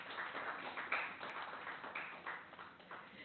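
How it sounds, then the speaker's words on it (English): Applause from an audience at a Statistics Day celebration event, a steady, fairly faint wash of clapping that carries on throughout with no voices. "Can we have a round of applause for Dr."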